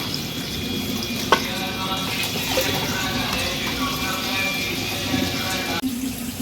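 Tap water runs steadily over raw meat and fat being rinsed in a home kitchen sink, a continuous close splashing stream with a sharp clatter partway through.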